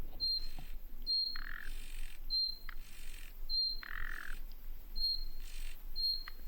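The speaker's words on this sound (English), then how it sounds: "You hear this bird?" A bird repeats a sharp, high call again and again at a steady pace, mixed with harsher squawks, against a soft outdoor hiss.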